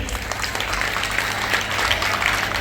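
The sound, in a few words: audience applause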